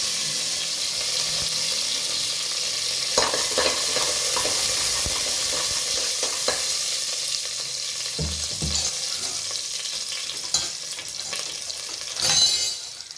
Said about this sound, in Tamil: வனலில் எண்ணெய் வச்சுருக்கேன், கடுகு போட்டுக்கிறேன், கருவேப்பிலை பூண்டு வச்சுருக்கேன்